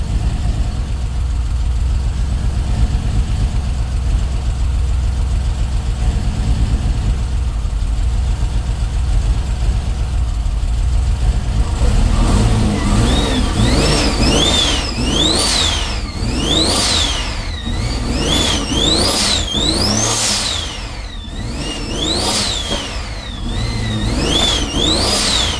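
A turbocharged car engine, its turbo leaks just fixed but running rough and needing a tune, idles with a steady rumble and then revs up hard again and again in rising, falling bursts, loud and close.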